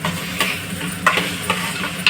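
A spoon stirs a mayonnaise sauce in a pan, making a faint sizzle with several sharp scraping clicks at irregular intervals. No one speaks.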